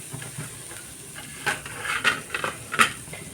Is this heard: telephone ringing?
no